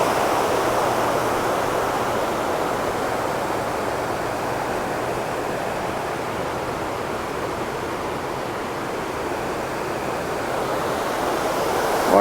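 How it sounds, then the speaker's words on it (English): A river rushes strongly in a loud, steady broadband roar of churning water that holds unbroken throughout, with no voices. "Water's running really, really strong."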